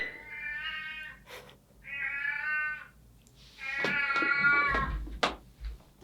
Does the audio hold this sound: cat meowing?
yes